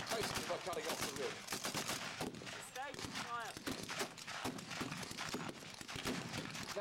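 Gunfire at a WW2 battle reenactment between British and German sides, heard as dense rapid cracks and bursts of rifle and machine-gun fire at a distance, mixed with crowd noise and faint talk.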